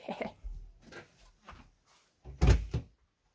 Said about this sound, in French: je vais fermer ma porte.